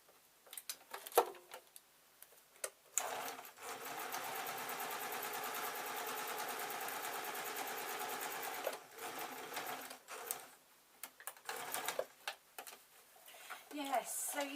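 A sewing machine stitches a fabric desk tidy in a steady, close, mid-level run lasting several seconds, with shorter bursts of stitching and handling noises before and after; a voice speaks briefly around it.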